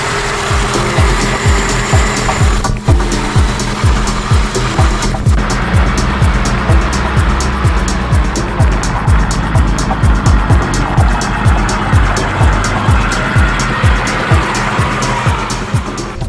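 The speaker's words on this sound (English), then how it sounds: "So now it's just a matter of waiting for the car to warm up" 1968 BMW 2002 engine running and warming up after fuel line problems, a loud close, steady idle with rapid rhythmic pulsing and chattering throughout, no voices.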